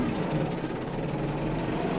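A tractor engine drones steadily while the tractor drives down a gentle hill toward a creek bottom with weight on the back, a constant low rumble with no talk.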